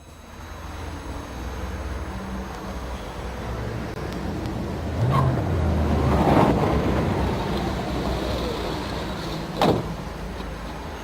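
A police car rumbles along with a low engine drone that builds, then settles as it stops, followed by a sharp door thump near the end, with no talk.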